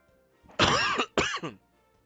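Two sharp coughs in quick succession, close and fairly loud, with a brief gap between them and quiet before and after.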